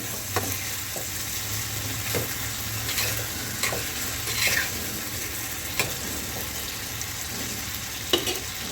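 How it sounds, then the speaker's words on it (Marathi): Coriander chutney stir-fried in a pan after fresh coriander is added, a continuous close frying hiss broken by periodic scraping stirs, with no talking. "आता कोथिंबीर टाकल्यावर याला थोडंसं परत परतून दिलं"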